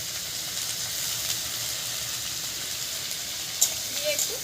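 Taro sautéing in a pan with salt and a freshly ground spice paste gives a steady, soft sizzle and hiss, with a faint clink of a utensil near the end.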